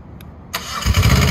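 The engine of a CMC All Access 75L boom lift cranks and catches with an abrupt roar, then runs at a loud, rising idle right up close.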